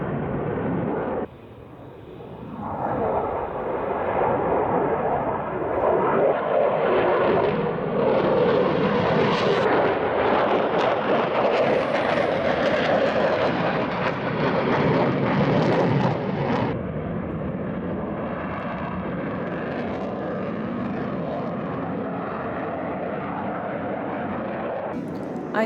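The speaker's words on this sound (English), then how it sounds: "I hope this gives you an idea of how close the aircraft actually get to you when you're on this pop-up site" A military jet passes low overhead at the RIAT airshow at Fairford, a loud sustained roar that swells to a peak near the middle, then settles into a steady, slightly softer rumble.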